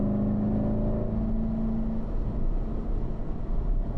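A Corvette on a race track hums and whirs as the driver downshifts, a close, steady engine tone sliding down in pitch before settling into a rougher, fluctuating rumble.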